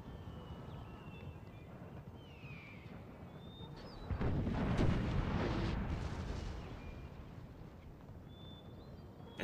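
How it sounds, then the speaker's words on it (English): Artillery volleys in Napoleon Total War 3 during a 3v3 battle, a dense rumbling barrage that swells into a louder, sustained burst of booms midway before easing back to a steady distant roar. "Man, everybody brought artillery for days."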